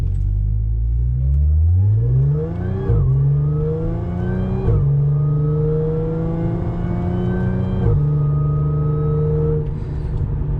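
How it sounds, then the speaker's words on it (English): Car exhaust with small, restrictive rear mufflers under light throttle, revving up through the gears in several rising pulls with brief dips at each shift, loud and steady throughout. "So that was like a little bit of throttle just going through the gears, and it sounded absolutely perfect"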